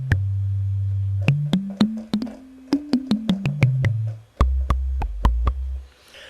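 A synthesizer preset played from a keyboard in Ableton: a sustained tone steps upward then back down through a sequence of short notes, each with a sharp attack, alone with no talk.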